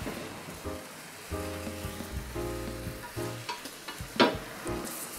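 Beaten egg sizzles softly in a frying pan while it is rolled into an omelette with chopsticks, a faint steady crackle broken by light scraping and tapping of the pan.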